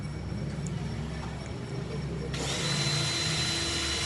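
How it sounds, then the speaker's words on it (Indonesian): Power drill boring into an aluminium frame for a two-sided running-text sign, a steady near whine that jumps louder and brighter partway through as the bit bites, with no voices. "Bor aluminium"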